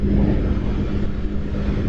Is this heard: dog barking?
no